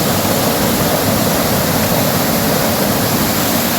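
Water rushes steadily over the Kudaganaru waterfall at Pithalaipatti near Anumantharayankottai, a loud, continuous full-band roar with no breaks, heard up close and alone.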